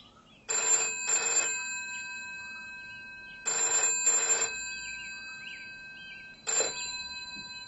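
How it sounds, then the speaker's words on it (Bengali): A telephone rings in three bursts, the first two each a quick double ring and the last a single ring, loud and near with quiet pauses between, followed by silence. "এমন সময় ফোনটা বেজে উঠল।"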